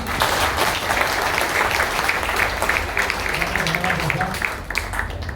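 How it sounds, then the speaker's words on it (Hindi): Loud, steady applause from an audience at a Brahma Kumaris ashram gathering, a dense wash of clapping sustained for several seconds, with a voice talking faintly underneath. "एक बार जोरदार तालियां।"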